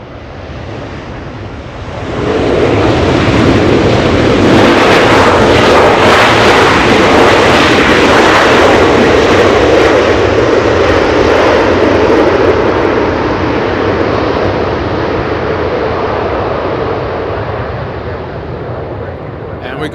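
A Southwest jet airliner takes off from runway 24 left at LAX, its engine roar swelling into a loud, broad rumble, holding steady, then slowly fading as it climbs away, with wind noise throughout.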